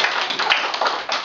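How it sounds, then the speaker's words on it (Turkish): Young children clapping their small hands at a school puppet show, a close, bright burst of uneven overlapping claps with no talk, loud and busy throughout. "o küçücük ellerinizle bir alkış tutalım"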